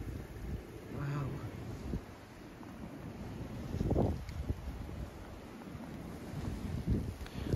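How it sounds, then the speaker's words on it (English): Wind gusts blow snow around outdoors during a New York City snowstorm, a rough, buffeting rumble on the microphone that swells and fades, with a voice heard briefly. "so it's going and, you know, it's blowing all over the place."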